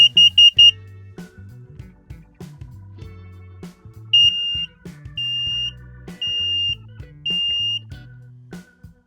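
Recreational vehicle propane and carbon monoxide detector alarm sounding during a test: loud, close, high electronic beeps in bursts, first a rapid triple pulse, then four evenly spaced longer tones, with faint handling noises between.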